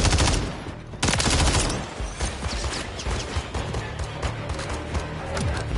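Sustained automatic gunfire in a Call of Duty-style shooter, a loud opening burst followed by rapid overlapping shots and rattling fire from several weapons, close and continuous.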